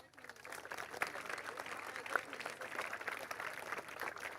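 An audience at a high school annual day in Panjim claps in a faint, distant, steady patter of applause, with some crowd murmur mixed in.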